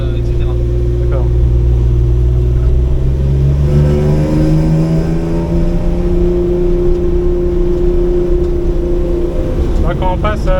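Ford Sierra XR4i V6 rally car engine revving loudly from inside the cabin, the deep drone rising and falling through gear changes and a climbing surge of acceleration, with brief talk near the end.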